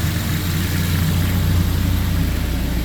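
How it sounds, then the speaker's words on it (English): A Ford Focus ST's EcoBoost engine idles steadily at close range, a loud, constant low rumble with no talking, cutting off abruptly at the end. "So the car has run long enough. I'll go ahead and shut it off, let it cool down"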